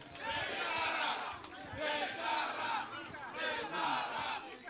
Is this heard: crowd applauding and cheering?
yes